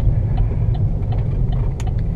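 A seven-seat car's engine idles or cruises with a steady low rumble, close and even, with faint small clicks and rattles from inside the cabin.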